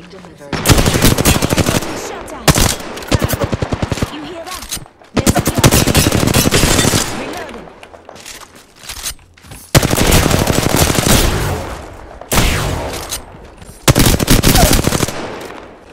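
Rapid automatic fire from the Flatline rifle in the video game Apex Legends, loud sustained bursts of tight repeated shots separated by short pauses, close and dominant over faint background game sounds.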